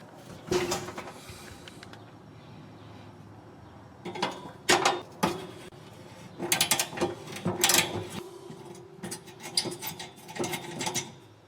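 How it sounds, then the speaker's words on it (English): Hand ratchet with an 8mm socket loosening the igniter bolts on a gas stove, with bursts of rapid close clicking separated by quiet pauses and no talk. "I'm going to be using an 8mm socket and a ratchet to remove the bolts."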